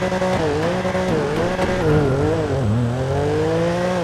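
A 2015 BMW M4 in GTA 5 sounds a steady, somewhat quiet exhaust drone that rises and falls with throttle, with tire squeal and skidding as the rear loses traction pulling out.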